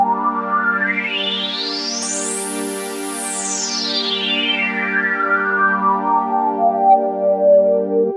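A held chord on a Korg KingKORG synthesizer passes through its modeled OB filter with the resonance turned up, giving a whistling, overtone-rich sweep that climbs to a piercing peak and then glides back down.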